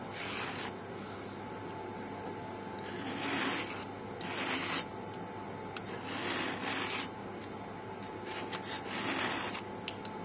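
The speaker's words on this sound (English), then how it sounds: "scraping away the excess pastry, just nice and gently" Excess pastry is scraped gently from around the rim of a quiche tin, a soft, quiet rasping that comes in several short strokes and pauses, close by with no speech.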